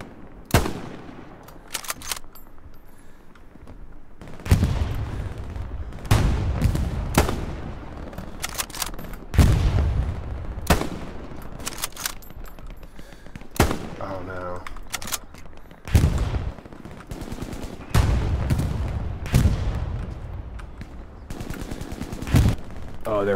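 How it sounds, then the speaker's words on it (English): Gunfire in the shooter game Hell Let Loose: loud, close, rapid bursts of automatic fire and single sharp shots come in repeated volleys, with brief quieter gaps between them. "They just shot me and they're unloading mags into me right now."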